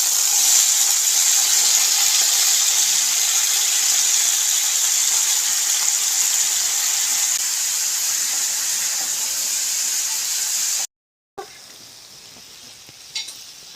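Mushrooms sizzle loudly and steadily in hot ghee in a pan, a bright, hissing fry that fills most of the clip before cutting out abruptly, with a quieter sizzle resuming afterward.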